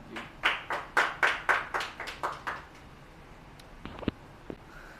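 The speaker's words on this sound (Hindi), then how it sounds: "मेरी मुराद आपकी तालियों की गूंज में है" At an Urdu poetry mushaira, a short burst of about a dozen distinct claps rings out in a quick, slightly uneven rhythm, then trails off into a few scattered taps in a quiet room.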